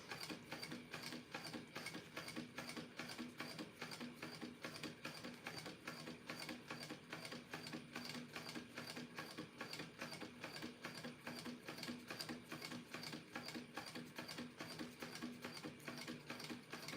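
A sewing machine stitches a shimmery vinyl purse, a steady fast mechanical whir with even rhythmic needle clatter running unbroken for the whole stretch, fairly quiet and without voices.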